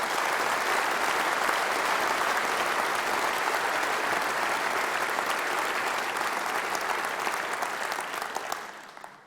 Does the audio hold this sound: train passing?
no